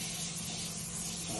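Lysol disinfectant spray released in one continuous hissing burst, close and steady for about a second and a half, with no voices over it.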